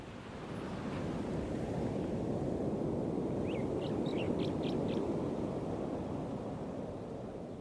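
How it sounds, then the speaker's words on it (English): Steady, broad roar of ocean waves crashing on a beach, continuous and full with no distinct breaks, a few faint bird chirps high above it, no voices. "You can probably hear the sound of the waves on the beach crashing."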